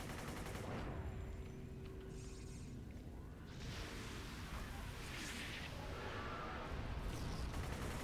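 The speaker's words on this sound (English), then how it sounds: "Who is shooting me?" Rapid bursts of gunfire fill a chaotic City of Heroes battle, loud and continuous, layered with effects and blasts, while a voice speaks over the action.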